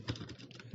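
Quick, quiet keystrokes on a computer keyboard patter in a short burst, faint and close with no talking.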